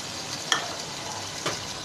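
Chicken fries in masala in a kadai with a brief, close sizzle and a couple of sharp stirring scrapes.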